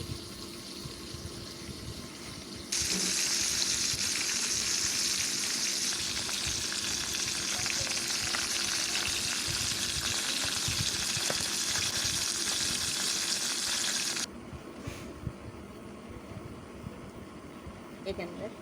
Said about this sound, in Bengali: এখন আমি তেল দিয়ে মাছের মাথাগুলো ভেজে নিচ্ছি